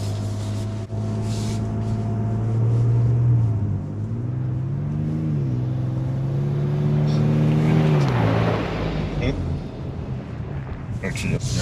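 A Ford Ranger Raptor pickup truck drives back onto the road from off-road terrain with a loud engine drone. It revs up and down through several gear changes, with people talking in the cabin over it.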